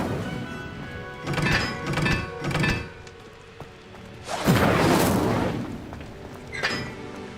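An Incendio fire spell is cast in a Hogwarts video game, giving a loud whooshing burst of flame midway after earlier rumbling thumps and impacts, followed by a shorter flare near the end.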